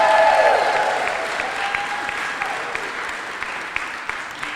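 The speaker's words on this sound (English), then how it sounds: "Let's also give a round of applause" Audience applause at a Waterbury Pride Mayor for the Day event, a tonal tail at the start giving way to steady, moderately loud clapping from a small crowd that gradually thins.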